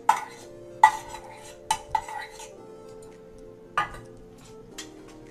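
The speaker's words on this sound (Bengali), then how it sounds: "পুরোটা মিক্স করে নেব। গ্রেট করা আলুটা মিক্স করব" Grated potato is mixed by hand in a metal bowl, giving a few sharp clinks of the utensil against the bowl between soft stirring sounds, close and fairly quiet.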